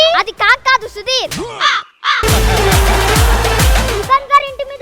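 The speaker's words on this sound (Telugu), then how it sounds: "అదిగొచ్చాడు కాకి" A crow caws in a comic scene from a Telugu TV drama promo, the harsh calls loud and close amid excited talk, with a burst of music and noise in the middle of the clip.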